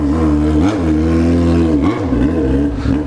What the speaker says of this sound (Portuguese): Vamos testar o jeito que ficou o escape na moto.